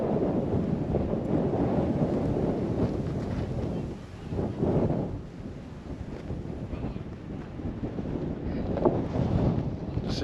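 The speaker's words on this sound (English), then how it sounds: "it's bloody windy" Strong wind rumbles and buffets against the microphone outdoors, a continuous loud low roar with surging gusts and no clear talk.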